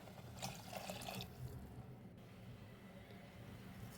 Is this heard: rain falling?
no